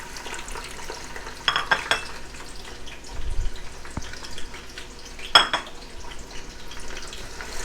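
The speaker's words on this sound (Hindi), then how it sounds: "प्याज को गोल्डन ब्राउन होने तक हम फ्राई करेंगे।" A large onion fries in a cup of hot oil inside a pressure cooker, a continuous soft sizzle broken by a few clinks and scrapes of a spoon stirring against the metal.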